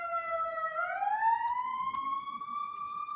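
A single ambulance siren wails steadily at moderate distance, its tone sliding upward and holding in a sustained sweep, heard alone with no talk over it.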